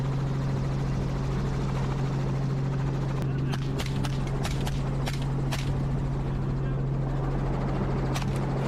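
A constant low droning helicopter rotor hum fills the background during an aerial feral pig hunt, with a few sharp clicks and taps over it and some voices speaking.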